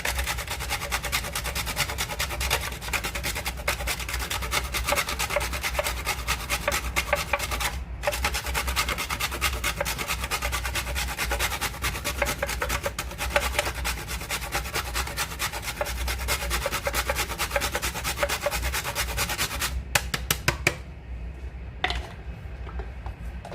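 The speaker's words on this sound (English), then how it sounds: "Grating some nutmeg." Nutmeg being grated for a Jamaican porridge makes a continuous close scraping rasp, fast and steady for over twenty seconds, stopping briefly near the end with no talk.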